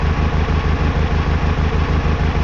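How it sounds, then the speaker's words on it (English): Simulated car engine running rough with a misfire from an unplugged number 3 injector, a loud steady idle with a pulsing, uneven low throb throughout. "Engine is still running, but you can hear how it is struggling. That's called a misfire."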